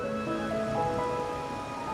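Steady rain in the game Wuthering Waves, a soft, even hiss of falling drops running throughout, faint and continuous beneath gentle sustained musical tones.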